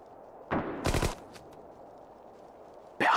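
Gunfire in the World War II strategy game Sudden Strike 4, set during the Ardennes offensive: a short rattling burst, then a second longer burst, a couple of faint single shots, and another burst at the end, all against a quiet background.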